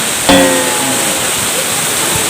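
A waterfall pours in a constant loud broadband rush, with a brief voice near the start.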